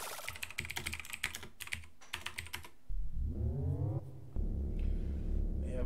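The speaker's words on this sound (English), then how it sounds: "I was just checking whether you can actually hear me pressing the keys, and you can." A computer keyboard is typed on in rapid, close click-clack bursts for about three seconds. A droning, rising game tone then takes over, and a steady buzzy tone follows.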